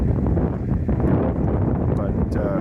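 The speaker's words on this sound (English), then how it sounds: "As you can hear, the wind's pretty bad here." Strong wind roars steadily against the microphone beside a hot tub, a constant heavy rush with gusty buffeting throughout.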